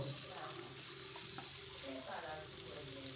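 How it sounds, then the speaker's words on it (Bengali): Steady sizzling of vegetables stir-frying in a pan for chicken stew, a constant hiss with faint stirring clinks, no voices. "সবজিগুলো একসঙ্গে নাড়াচাড়া করে একটু ভাজা ভাজা করে নেব"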